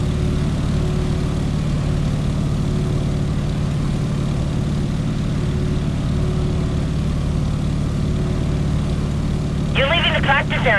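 Constant low propeller drone of a Stearman biplane engine in Microsoft Flight, steady and throbbing throughout, with a voice briefly speaking over it near the end.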